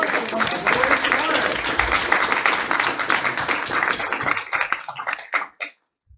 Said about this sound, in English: Can we all give it another round of applause for Kira?